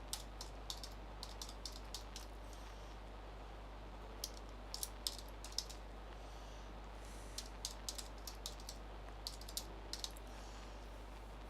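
Code is typed on a computer keyboard in quick, sharp key clicks that come in short irregular clusters, fairly faint and close over a quiet steady hum, with no speech.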